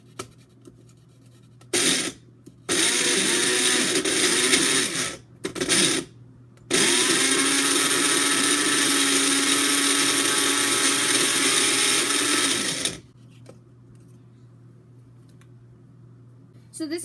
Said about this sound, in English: the blender is going to be crushing it up